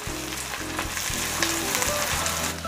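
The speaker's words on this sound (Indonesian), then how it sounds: "Diaduk-aduk lagi sampai semua bahan yang masuk ini mengeluarkan aroma yang harum." Galangal, bay leaves and kaffir lime leaves stir-frying in a pan, a loud continuous sizzle close by with scraping strokes of a spatula, no voices.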